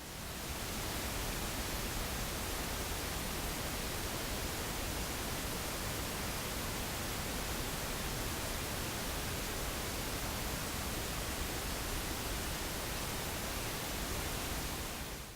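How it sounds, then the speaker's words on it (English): Continuous emulated tape hiss from a plugin, a dense even wash of noise that holds steady for the whole stretch with nothing else over it. "tape noise on plugin emulations can usually be switched off completely"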